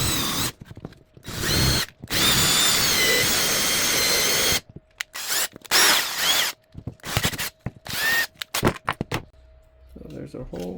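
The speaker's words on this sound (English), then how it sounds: "for this, we're just going to drill our 3/4 inch hole" A power drill bores a 3/4 inch hole for a Bosch CM10GD shadow light switch install, whining in loud bursts of varying length with pauses between, and a person talks briefly in the gaps.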